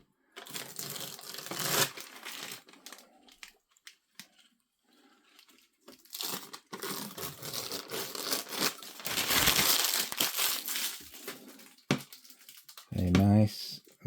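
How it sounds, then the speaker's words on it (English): Protective plastic film is peeled from an acrylic watch collector's box, giving crinkly tearing and crackling bursts in several stretches with pauses between, close and fairly loud, ending in a sharper clatter. "Let's have some peeling."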